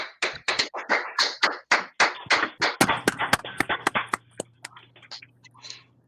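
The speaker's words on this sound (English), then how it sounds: "So let's give them a quick round of applause." A small group gives a brief round of applause for award winners at a school district board meeting. The quick, sparse claps from a few people stand out clearly, then quickly thin out and stop.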